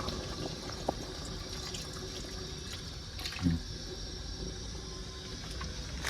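Water pours steadily into a pot of chicken curry on a stove in a truck, a continuous hissing splash with a brief clink near the middle.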